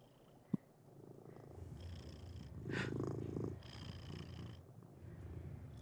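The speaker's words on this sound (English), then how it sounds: "he purred into the mic a little bit, but it's a very soft purr" A cat purrs softly right against a microphone, a steady low rumble that rises and falls with its breathing across several seconds, after a brief click at the start.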